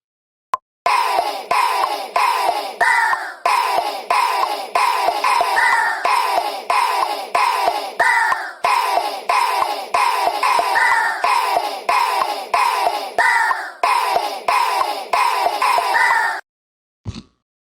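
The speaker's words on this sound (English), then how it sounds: "This is the hey ho chant, and it sounds like this by itself." A chopped vocal sample of a crowd chanting hey ho, placed in an LMMS breakcore track and repeated in rapid, regular stutters for about sixteen seconds, loud and steady, before cutting to near silence with one brief final hit.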